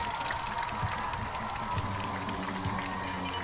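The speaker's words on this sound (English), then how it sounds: "now here come the St. Joe Bloodhounds. And listen to the crowd." Football crowd roaring and cheering as the St. Joseph Bloodhounds take the field at a high school game in Brownsville, a dense, steady wall of noise with no pauses.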